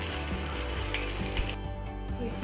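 Potato and onion pakoras frying in hot oil, a steady close crackling sizzle that fills the whole moment without any talking.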